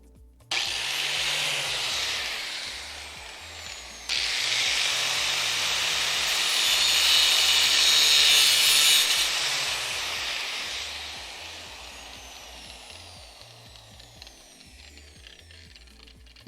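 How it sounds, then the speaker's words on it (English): A power grinder runs in a garage, a loud steady whine that starts abruptly, surges louder midway and gradually tapers off, with no talking over it. "I'm going back to using the grinder."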